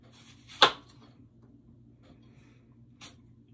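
A knife slices through apples with one sharp, crisp cut, followed by near silence and a second, fainter cut about two and a half seconds later.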